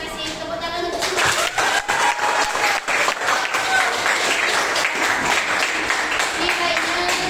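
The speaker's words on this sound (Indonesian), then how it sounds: "tepuk tangan untuk semua" A class gives a round of applause at the end of a lesson, steady clapping from a group that is close and fairly loud, with voices talking over it the whole way.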